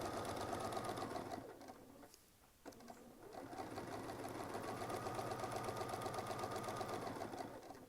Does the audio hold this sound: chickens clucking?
no